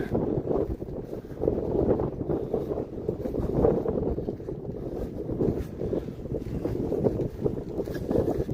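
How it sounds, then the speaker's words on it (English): Steady wind at a beach buffets the microphone, a continuous dense rumble and rush with no gaps and no voices. "So a little bit of wind up here"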